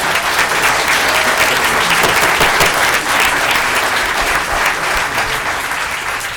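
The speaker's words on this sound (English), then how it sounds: "I would ask if the audience would hold your applause." Sustained, dense applause from the audience at a public commission meeting, many hands clapping at once in a loud, even wash that holds steady and eases only slightly toward the end.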